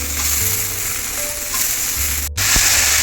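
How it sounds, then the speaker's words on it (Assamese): Chopped tomato frying in a pan with onion, turmeric, salt and sour fruit (outenga) while a fish dish is cooked, giving a steady, close sizzle with faint stirring sounds and no talk. "এতিয়া বিলাহীটো ভাজি লওঁ।"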